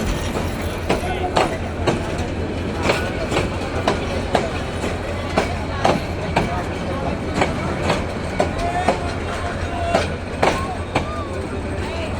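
A crowded passenger train rolls past close by on the Joydebpur rail line, its wheels beating a loud, steady clickety-clack rhythm over the track joints throughout.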